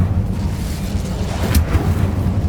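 A fire spell cast in Hogwarts Legacy gives a steady, rumbling whoosh of flame with a brief brighter flare midway, fairly loud and without speech.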